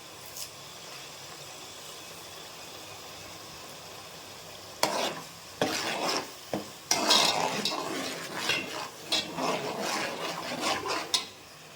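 Curry leaves drop into a hot pan for a chicken curry and are stirred, with a burst of sizzling and scraping that starts after a quiet moment and runs steadily near the listener, with no talk.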